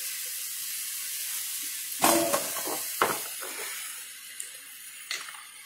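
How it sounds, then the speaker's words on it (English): Hamburger fat sizzles in a pan while browning with onion and green pepper, a constant soft hiss broken by a few sharp louder bursts as ingredients hit the heat. "to start browning, get a little bit of the fat from the hamburger going"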